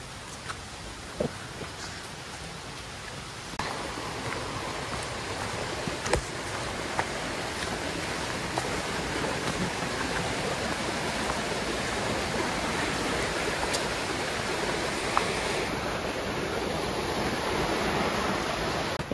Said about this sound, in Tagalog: Daloy ng tubig, naririnig ko na.